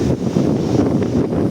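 Strong monsoon wind and waves, a continuous loud roar and buffeting rumble for a brief moment, with no voices.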